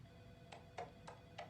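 A telephone rings in the video game Alan Wake 2, four short bright bursts spaced about every quarter second over a low rumbling background, at moderate distance with no voices.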